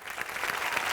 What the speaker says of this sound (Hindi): चलिए हमारे सारे सुपरस्टार के लिए जोरदार तालियां